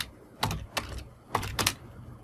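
Computer keyboard keys pressed while typing a web search, a few sparse, soft, close clicks in two small pairs over a quiet background.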